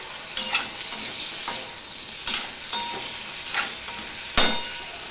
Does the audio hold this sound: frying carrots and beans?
yes